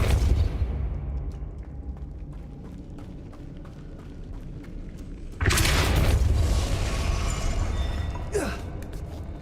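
Depulso force spell cast in the Hogwarts Legacy video game, a sudden loud whooshing blast that erupts midway through busy game audio and stays dense and roaring for several seconds.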